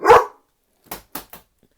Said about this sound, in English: So there's the magic of a dog bark.